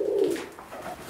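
Young Hobo pigeon squabs make soft, low cooing and murmuring sounds up close, a brief gentle coo with no talking.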